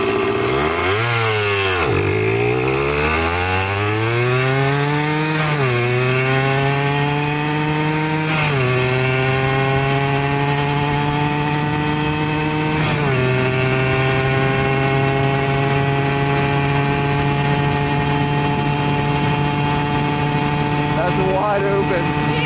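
A Suzuki DS80 80cc two-stroke dirt bike pulls away from a standstill in first gear, its buzzy engine climbing steeply in pitch, then revving up again through several rising pulls to a sustained high wail, loud and close.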